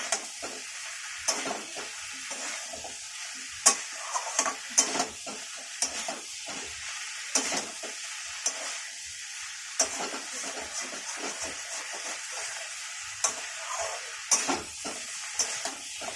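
Malabar spinach (pui) stalks stir-fried with chana dal in a pan, a continuous sizzle broken by frequent sharp scrapes and knocks of a spatula against the metal pan, close and without speech.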